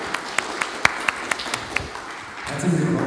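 Scattered, fairly faint claps from an audience in a hall at the Stadthaus Ulm, a sparse handful of separate hand claps that give way to a murmur and rustle at the end.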